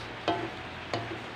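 A wooden spatula scrapes and stirs a thickening ginger mixture in a plain wok, two short separate strokes with quiet pauses between them.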